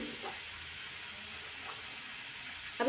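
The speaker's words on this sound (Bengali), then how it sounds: "দিয়ে দিলাম একটু লবণ দিয়ে আমি এগুলো একটু ভাজা ভাজা করে নেব" Ginger paste, salt and potatoes frying in a pan for unripe tomato chorchori, a soft steady sizzle and hiss running quietly throughout, with a brief louder stir or clatter at the very end.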